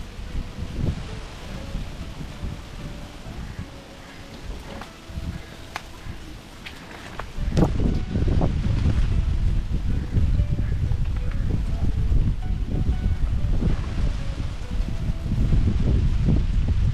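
Strong wind blows beside a river where a fish trap is being set. It is a steady rushing sound that jumps sharply into heavy, close buffeting against the microphone about halfway through and stays loud.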